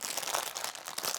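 A plastic bag of Lego parts crunches and crinkles up close, a continuous rustling of handled plastic with no talking.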